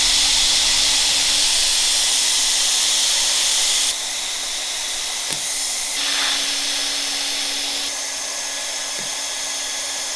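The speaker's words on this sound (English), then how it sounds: "We're gonna get it all plastic welded up." A hot-air plastic welder hisses steadily and loudly at close range while a cracked part from a Peterbilt 389 truck is repaired, with a faint hum underneath and a few small clicks.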